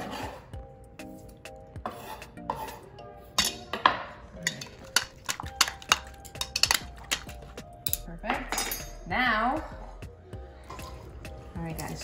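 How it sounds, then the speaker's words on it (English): Food being stirred in a container to coat it evenly, a busy run of metal utensil scrapes, clinks and taps against the dish, close and irregular, with a brief wet slosh near the end. "But at least here, I can stir it. Get everything evenly coated."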